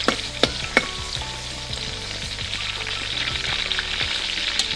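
Black chillies fry in hot oil in a pan for a chivda, a steady close sizzle with sharp pops and crackles scattered through it and a few louder snaps near the start.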